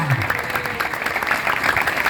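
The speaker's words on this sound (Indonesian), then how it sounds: "Tepuk tangan semuanya." Audience applause at a high school Maulid Nabi religious gathering, a dense steady patter of many hands clapping at moderate loudness throughout, with a faint voice briefly underneath.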